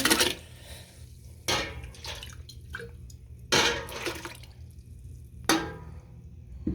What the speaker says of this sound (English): I already have a jar of tomatoes open, so I'm just going to add that in.